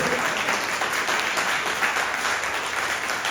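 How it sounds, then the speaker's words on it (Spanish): A church congregation claps for the Lord during a sermon, a steady wash of dense applause filling the room without pause. "nuevamente le das un aplauso al Señor"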